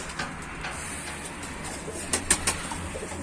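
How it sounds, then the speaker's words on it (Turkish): Soft carrier pigeon cooing, a few short calls near the end, over faint steady background noise outdoors. "Yeni e, posta güvercinlerimiz geldi."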